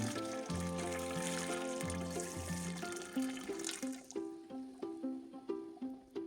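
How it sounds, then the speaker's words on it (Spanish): Boiling water poured into a pot over preserve jars of sugar-free fruit, a continuous splashing pour that gives way to rhythmic dripping and gurgling bursts, close and fairly quiet. "Y añadimos agua hirviendo."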